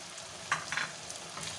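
Beef pasanday for a Hyderabadi-style gravy fries in a pan with green chillies, coriander and mint, giving a steady soft sizzle with a couple of brief stirring clatters near the start.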